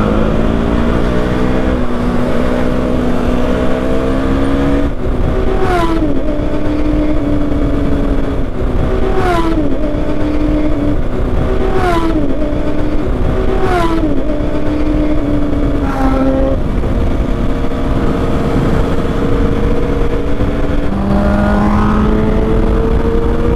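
A group of superbikes rides along a highway, engines droning loudly and repeatedly revving up and easing off in overlapping, rising and falling pitches throughout.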